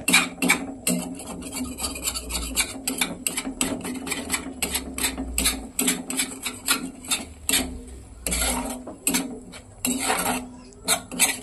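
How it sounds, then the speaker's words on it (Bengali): Spice paste for a thin pointed-gourd curry frying in oil in a pan, with dense rapid metallic scraping and clinking of a spoon against the pan, steady and close throughout, over a low background hum. "এই দেখো মশলাটা সুন্দর করে কষানো হচ্ছে"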